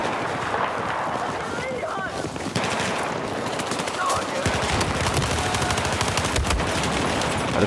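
Rapid assault rifle fire in a Battlefield match on the Dragon's Valley map, with bursts of automatic shots over constant battlefield rumble and a voice talking throughout.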